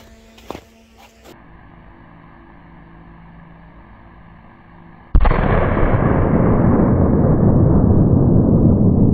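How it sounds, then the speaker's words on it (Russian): A Quad Boom firecracker blasts near a snowman after a quiet stretch with a couple of small pops, the powerful detonation followed by a long, loud roaring rumble that sustains for several seconds. "Взрывы были очень мощные"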